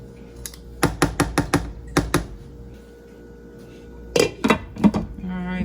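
Metal saucepan lid set onto a pot on the stove, a burst of quick clattering clinks, a pause, then another round of rattling clanks, with a voice speaking.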